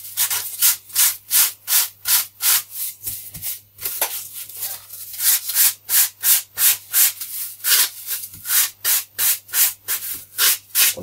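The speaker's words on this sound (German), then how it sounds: "Und von vorne nach hinten schleifen." Repeated back-and-forth sanding strokes on the profile core edge of an F3K glider wing, worked front to back at a table edge; steady rhythmic rasping, close and fairly loud, with a few brief pauses and no talk.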